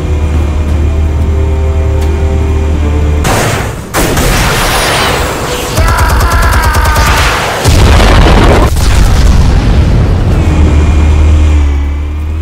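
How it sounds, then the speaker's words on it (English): Armed explosives detonate in Batman: The Telltale Series, a very loud sustained blast with deep rumble and crackling debris layered over a steady low drone, no talk. "Explosives armed. Fire when ready."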